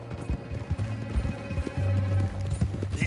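Steady clip-clop of horse hooves in Red Dead Redemption II, a loud, continuous rhythmic trot with low rumbling underneath and no talking.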